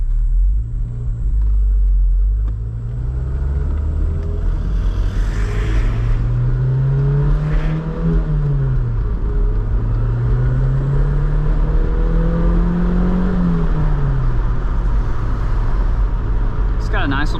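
A 1993 Toyota MR2 engine while driving, a steady low drone that rises and falls through the gears, heard from inside the car with a whine over the rumble and no talk.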